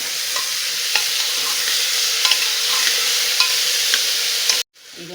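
Chopped vegetables fry over a low flame in a pressure cooker while being stirred, a steady close sizzle broken by light scraping clicks of the spoon against the metal, with no voices.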